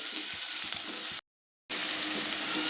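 Onions fry in four spoons of hot oil in a pan, a dense, loud continuous sizzle broken by a brief moment of silence midway.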